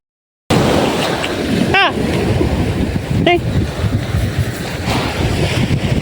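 Sea waves rolling in by the shore near the windmills of Ilocos Norte, a loud continuous wash of surf mixed with gusting wind buffeting the microphone, with a couple of brief voice sounds over it.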